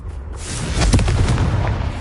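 A Confringo spell blasts in Hogwarts Legacy on PS5. A loud, close explosion booms with a heavy low-end rumble and a crackling burst that stays full and sustained for about two seconds.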